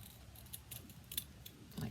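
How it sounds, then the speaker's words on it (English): Scissors snip through craft rope at an angle, a few soft crisp cuts spaced unevenly over a couple of seconds, close by and fairly quiet with no voices. "I'm going to take my scissors and I'm going to cut this on an angle"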